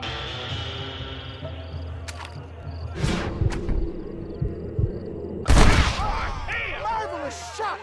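A gunshot in the Red Dead Redemption video game, a loud sharp blast with a ringing tail, amid earlier thuds and game sound effects.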